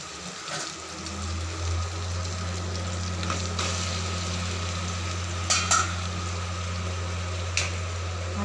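Mutton pieces go into a pan of fried tomatoes and are stirred, giving a steady hissing sizzle over a low hum, with a few sharp utensil clinks against the pan.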